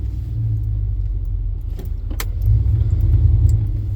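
GMT400 truck with a TBI engine and a dying fuel pump idling rough in gear, a low uneven rumble near stalling, with brief metallic jingles and a slight rise toward the end.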